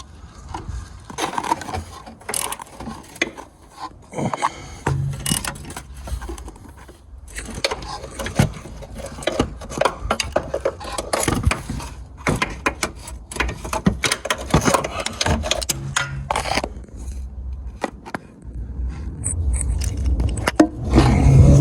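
Ratchet wrench loosening bolts on a BMW electric power steering rack during replacement, bursts of clicking, scraping metal and clattering tools at close range, with no talk.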